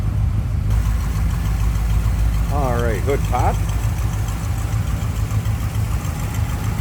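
A 1957 Ford Fairlane 500 convertible's 312 V8 idles steadily with a low, even rumble throughout, while someone talks over it near the open hood.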